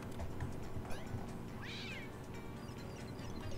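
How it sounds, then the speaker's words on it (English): A cartoon cat meows once in the Contraption Maker puzzle game, a short rising-and-falling cry midway through, set against a busy bed of game music and sound effects. "Oh, the cat."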